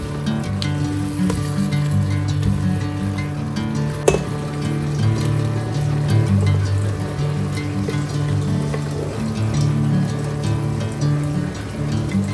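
Cheese, soy sauce and cooking cream get stirred together in a hot frying pan, a steady close sizzle with soft scraping and one sharp knock of utensil on pan, no voices.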